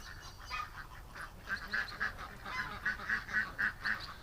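Farm ducks giving a run of loud, repeated honking quacks close by, pulsing in quick bursts that grow busier toward the end over a grassy outdoor background.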